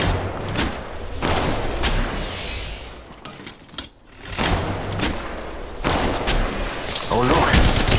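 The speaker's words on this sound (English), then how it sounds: "They're shooting at me!" Rapid bursts of gunfire and booms from an Apex Legends Mobile match come in repeated clusters, loud and close, with a player talking over parts of it.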